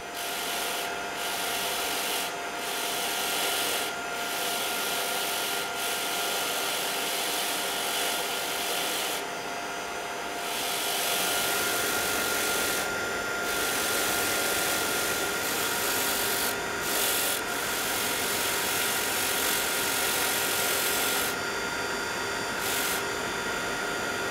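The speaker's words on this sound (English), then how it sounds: "I'm using a bench polisher by Pepe Tools with the bristle wheels and a ventilating hood by Foredom" A Pepe Tools bench polisher fitted with bristle wheels, running under a Foredom ventilating hood during ring making, produces a steady whirring and rubbing hiss with intermittent scraping bursts as metal is pressed against the wheel, sustained throughout.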